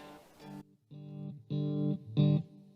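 An electric guitar plays through a Spark GO amp in mono over a summing cable, giving a few sustained, effect-laden chords and notes in short separate bursts, close and moderately loud, with no voices.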